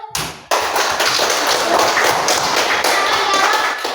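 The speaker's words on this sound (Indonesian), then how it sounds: "tepuk tangan for group." A classroom group of students claps together in a dense, steady burst of applause that starts abruptly after a brief pause and holds loud and continuous to the end.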